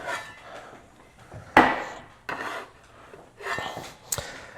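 Detroit-style pizza scraped and lifted out of its metal pan, with a few sharp clanks and scrapes separated by quieter pauses, close up.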